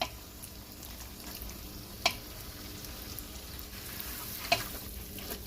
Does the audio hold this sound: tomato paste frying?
yes